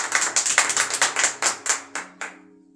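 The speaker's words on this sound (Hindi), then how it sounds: "जोरदार तालियां बजाइए।" A congregation at a church sermon claps in unison, about a dozen sharp, evenly spaced claps that slow and thin out toward the end, close and clear with no talking.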